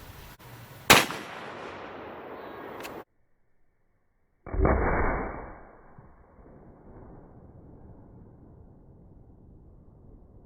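A .458 Win Mag rifle is fired at pumpkins outdoors, with one loud sharp report early on, a second heavy boom a few seconds later, and long fading echoes afterwards.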